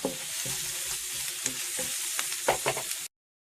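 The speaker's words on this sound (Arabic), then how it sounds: "ونخليوها تشحر مزيان" Peppers and onions fry in a pan with salt and spices, giving a steady, close, bright sizzle with small pops and crackles throughout and no talking.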